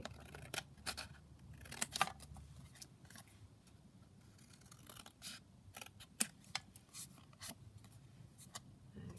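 Scissors snip through paper tags to cut triangle shapes, giving a string of close, crisp snips with short pauses between cuts and light paper rustling, with no voices.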